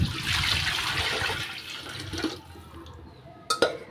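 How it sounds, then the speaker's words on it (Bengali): Water pours into a cooking pot of fried meat and potatoes for biryani, a loud rushing gush that tapers off, followed by two sharp clinks near the end. "তো আমি এখানে পানিটা দিয়ে দিব।"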